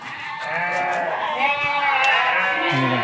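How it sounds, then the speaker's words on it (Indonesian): Goats in a goat pen bleating close by, one long wavering cry running into further overlapping bleats, loud and continuous. "udah diajak ke kandang kambing nih"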